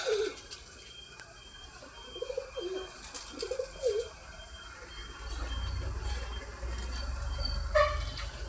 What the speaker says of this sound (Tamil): மிச்ச புறாக்கள் வந்து அந்த குண்டில் இருக்குது பாருங்கள்